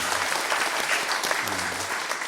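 Church congregation applauding youth worship musicians at an Easter Sunday service, a loud, dense burst of clapping that fills the room steadily throughout.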